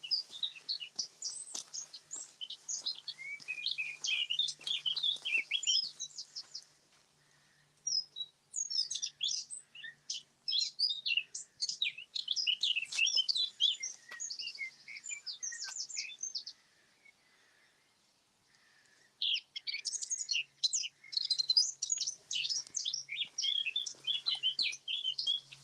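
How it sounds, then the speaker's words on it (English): A blackbird sings outdoors in bursts of bright, warbling phrases separated by short pauses, clear and fairly close, with faint background hum between the phrases. "Blackbird is singing away."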